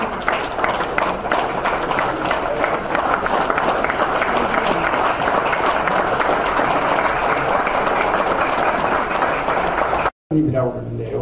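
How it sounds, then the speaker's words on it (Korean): Dense, steady applause from an audience at an inauguration ceremony with a bouquet presentation fills about ten seconds at a constant level, then cuts off abruptly, leaving a short stretch of faint room sound. "큰 박수 부탁합니다."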